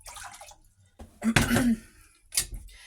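A cup of water, one and a half cups of filtered city water, is poured while making caramel dumplings, with short splashy gushes in bursts and quiet gaps between them.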